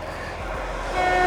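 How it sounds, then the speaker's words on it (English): Train horn sounding from a passing train beside the railway line at Royal Troon golf course, heard as a sustained tone rising toward the end, moderately distant over background traffic-like rumble. "Let's see if we can get him to honk."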